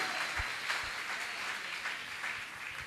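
A church congregation at a Sunday worship service applauds, a steady wash of clapping from many hands that holds at an even level for a few seconds, heard from some distance.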